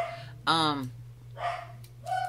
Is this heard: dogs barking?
yes